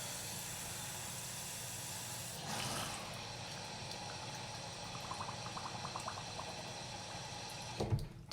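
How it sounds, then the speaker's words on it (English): Water runs steadily into a jar of soil, a continuous hissing pour that stays even throughout, with a brief louder swell early on and a short clunk near the end. "So I'm going to add water."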